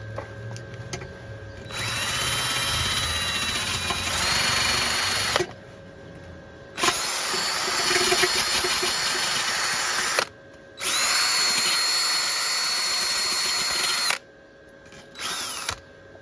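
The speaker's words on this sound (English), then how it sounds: "Got my drill with the wire brush." A power drill fitted with a wire brush scrubs a 1998 KX250 motorcycle frame, running in three long loud close bursts with short pauses between, then a brief final burst.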